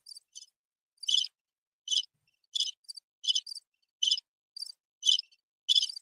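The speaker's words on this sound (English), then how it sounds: "I think I got some cricket sound effects." Crickets chirp in a crickets sound effect, with short high trilled bursts repeating roughly every half second to second, clean and isolated against silence.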